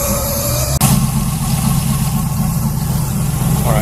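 A junkyard Camaro's engine idles steadily and loudly after a cold start, with a deep continuous rumble and a sharp click near the start, running alone without talk.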